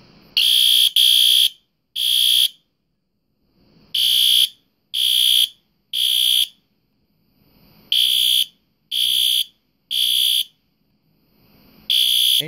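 A smoke-detector fire alarm with a deeper tone sounds during a test, set to low volume yet still loud, giving repeated sharp electronic beeps in groups of three with short pauses between groups.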